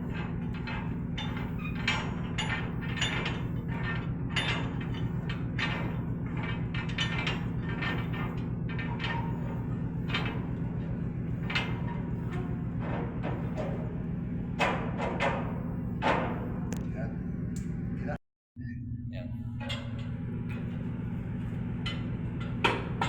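A container lashing rod being tightened by hand: repeated metallic clicks and ratcheting knocks over a steady low hum, with one brief dropout near the end.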